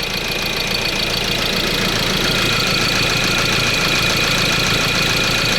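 A Ford Transit van engine idles steadily at close range, a constant loud rumble with a faint knocking texture throughout and no talking.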